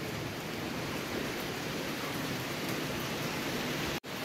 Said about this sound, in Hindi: यार जस्ट तैयार होके निकला था और बारिश शुरू हो गई